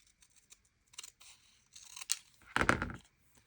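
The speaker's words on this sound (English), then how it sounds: "And I will cut off the bottom." Scissors snip through the bottom of a paper craft tag in a few quick, close cuts, with a louder final crunchy snip near the end and small rustles of paper before it.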